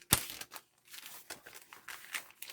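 Paper pieces are creased and folded in half by hand, giving soft, close crinkling and crackling in short irregular bursts with quiet gaps between.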